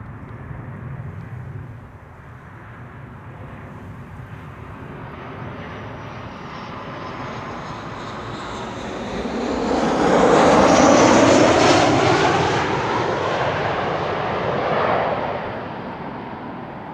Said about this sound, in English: so too is KLM flight 1920 approaching the Polderbaan here. A 737 arriving from Zurich.